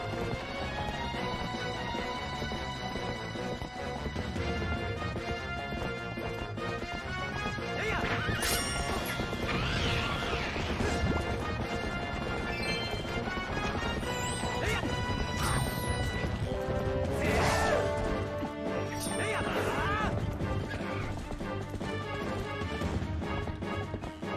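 Horse hooves gallop in a steady rhythm in The Legend of Zelda: Twilight Princess over a busy game soundtrack, with crashes, whooshes and a whinny mixed in.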